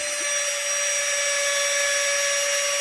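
A small Harbor Freight carbide burr, made as a drill bit, carving cottonwood bark on a corner, giving a steady high-pitched whine with hissy grinding throughout, loud and close, with no voices.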